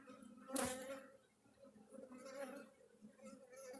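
Honeybees buzzing softly around an open hive while a beekeeper in a bee suit searches for a newly hatched virgin queen, a low, faint hum with one brief louder swell near the hive.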